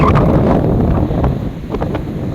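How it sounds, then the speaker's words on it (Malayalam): Strong wind during a rainstorm in the UAE roars and buffets the microphone in loud, continuous gusts that ease slightly midway, with no speech. "നല്ല കാറ്റും കാറ്റിലെ ശബ്ദം നിങ്ങൾക്ക് കേൾക്കാൻ പറ്റുമെന്ന് വിചാരിക്കും"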